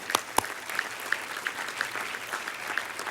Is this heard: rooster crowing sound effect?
no